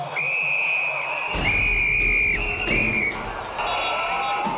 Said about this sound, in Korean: 호루라기를 불어 관중들에게 위험 신호를 알리는 것이 급선무입니다.